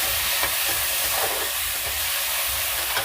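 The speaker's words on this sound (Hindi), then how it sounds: "इसमें प्याज डालेंगे। इसको अच्छे से मिक्स करेंगे।" Ground onion added to cumin in a hot pan, sizzling in a steady loud hiss with faint scraping of stirring throughout.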